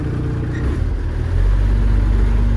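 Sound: tractor engine revving while reversing

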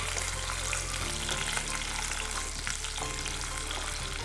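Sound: onions and capsicum frying in a pan for paneer tikka masala

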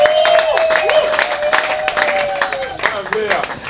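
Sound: audience applause welcoming the guest of honour

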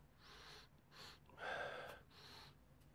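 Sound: sniffing a motorcycle carburettor part for petrol smell

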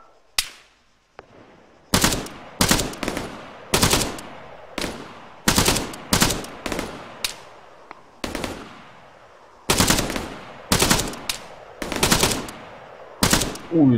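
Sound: gunfire in ARMA 3 Epoch mod, from a video game

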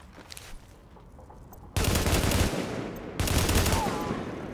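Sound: gunfire from weapons in video game Tom Clancy's The Division

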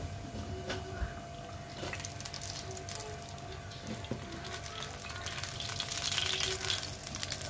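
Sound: potato patties frying in oil

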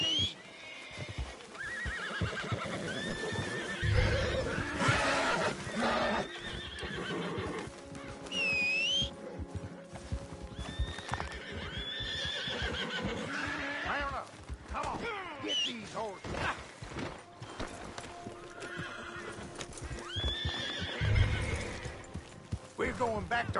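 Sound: horses neighing and hooves, video game

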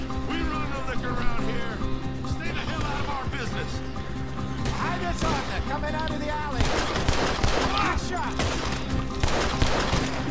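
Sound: gunfire in the video game Red Dead Redemption 2

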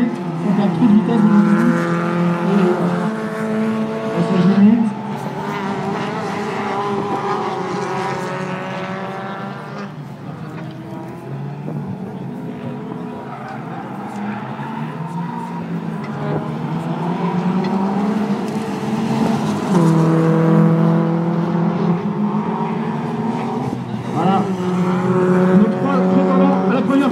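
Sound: rally race car accelerating on track

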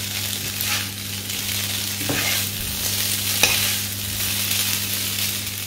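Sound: stirring spring onions into chicken noodles in pan

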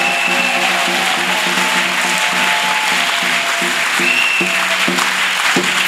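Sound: congregation applauding

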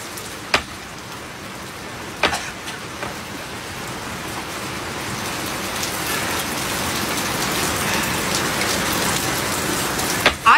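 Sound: rain falling

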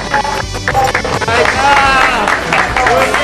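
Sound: audience applause

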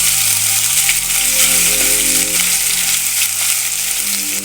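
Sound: crushed ginger and garlic sizzling in oil with mustard seeds

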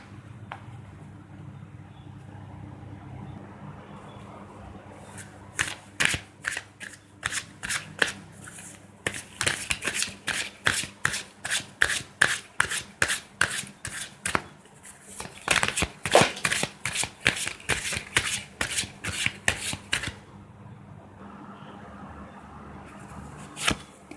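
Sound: shuffling tarot cards

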